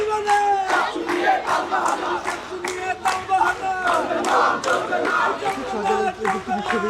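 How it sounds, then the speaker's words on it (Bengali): Crowd of students at Shahjalal University of Science and Technology marching around the campus in a protest procession, chanting slogans in loud rhythmic unison, a steady repeated call-and-response close by. "স্লোগান দিচ্ছেন"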